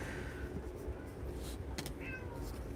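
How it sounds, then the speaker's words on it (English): House cats meow loudly, with a few short calls standing out over steady background noise. "my cats are meowing so loudly"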